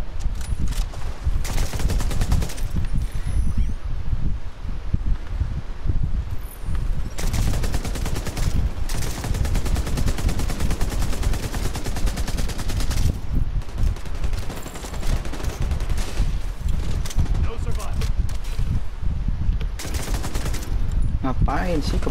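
Sniper and automatic gunfire in the video game The Division 2 at the Potomac Event Center, loud dense bursts of shots rattling almost continuously with brief gaps, a voice occasionally speaking over the gameplay.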